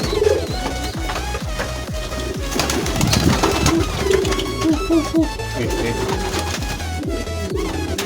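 Pigeons coo repeatedly and close by during a bird vaccination session, with soft rhythmic calls over a steady background hum and some faint clatter.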